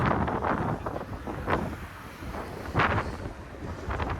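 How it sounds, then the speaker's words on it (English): Gusty wind buffets the microphone in a steady low roar on a downtown street in Toronto's Corktown neighbourhood, with a few stronger bursts rising and falling throughout. "And now it's windy."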